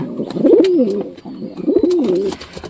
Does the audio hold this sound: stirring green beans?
no